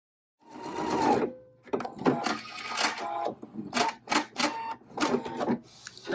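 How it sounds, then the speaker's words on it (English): Sewing machine stitching a quarter-inch seam on a velvet pillow cover, running in short rapid bursts with brief pauses between, close and fairly quiet. "we're just going to stitch this with a 1/4 inch seam"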